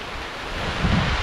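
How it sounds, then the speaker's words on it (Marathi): Heavy monsoon rain pours over Konkan paddy fields, a dense, roaring wash of steady noise that swells slightly toward the end. "तर मित्रांनो बघा जोरदार पाऊस इलो"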